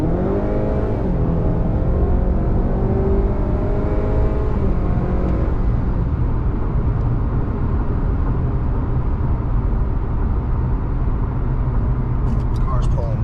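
A stage 3 tuned Honda Accord 2.0T with a 10-speed automatic accelerates hard on the highway, engine pitch climbing through the gears before settling into a loud, dense road and wind roar.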